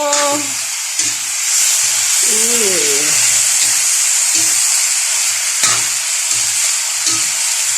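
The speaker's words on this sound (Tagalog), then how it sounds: "Lagay ko na ang aking opo. Gisahin ko muna to." Upo (bottle gourd) sautéing in a pan with a loud, steady sizzle and hiss throughout, close up, while a person talks and hums over it.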